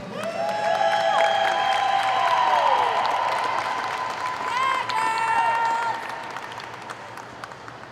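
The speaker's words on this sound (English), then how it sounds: "One more round of applause for these amazing divers." A large crowd at a diving championship claps steadily for several seconds, with whistles and cheers rising over the applause.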